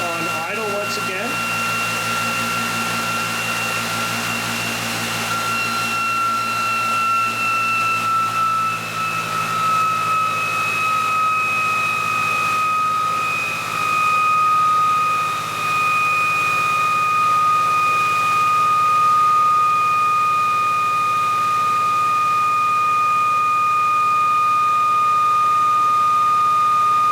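An induction motor drive system hums and whines continuously as it settles back toward idle, its tonal pitch stepping down over the span, close and steady, with some speech underneath.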